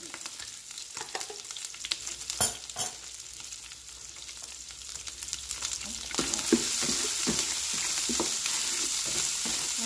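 Beyond Meat sausage sizzling in olive oil in a pan, a steady crackling fry that grows louder and denser partway through, broken by a few sharp clicks and scrapes of stirring.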